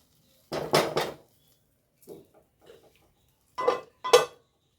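Metal clatters in a kitchen as a lid goes onto a curry pot: a loud double clank near the start, faint small taps in the middle, then two more sharp clinks near the end, with quiet gaps between.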